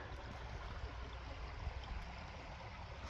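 Glacial creek water runs steadily over large rocks at a fast-moving spot, a soft, continuous broadband rush that stays even and fairly faint throughout, with no voices.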